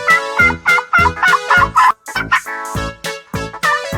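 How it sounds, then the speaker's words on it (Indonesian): Turkey gobbling in rapid bursts, a loud, close, rattling series of calls repeating through the whole stretch with brief gaps and no speech. "Ayam kalkun,"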